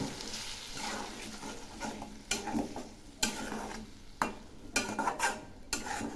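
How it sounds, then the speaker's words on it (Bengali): Spices cooking with beaten curd for a vegetarian soyabean curry are stir-fried in a pan, a soft sizzle under repeated sharp spatula scrapes and knocks, fairly quiet and close. "এখন এই মশলাগুলো খুব ভালো করে কষিয়ে নেব।"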